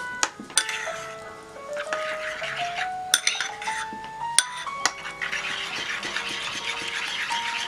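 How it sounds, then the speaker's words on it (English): A utensil clinks and scrapes against a bowl while burger meat is mixed with salt and pepper, giving sharp, irregular knocks over a low hum. "Mix so that the salt dissolves in sauce."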